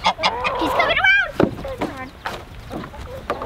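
Chickens in a backyard coop clucking and squawking close by, with overlapping calls and a goose-like honk, scattered across a few seconds amid light rustling and a voice in the background.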